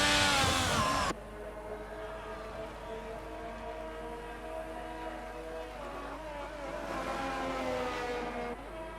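Formula 1 race cars in an F1 video game at Jeddah howl with high, layered engine whine, one loud car passing at the start and then a steadier field of engines that swells again later on.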